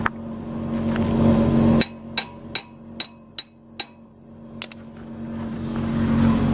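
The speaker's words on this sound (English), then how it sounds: "I'm going to have to hold that and tap it at the same time" A hammer taps an engine cylinder part into place, about eight sharp metallic knocks in an uneven rhythm, close and fairly loud after a stretch of steady background hum.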